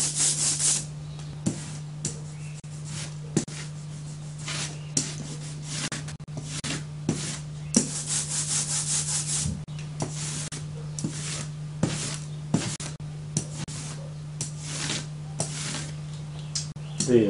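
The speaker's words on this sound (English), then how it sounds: "Listening to the sound, you hear the sticky sound there. That's the indication that the ink surface has built up" Sticky, tacky rubbing and crackling of ink building up on rollers of a yellowXpress press, heard alone with a steady low hum beneath and periodic sharper ticks, fairly close.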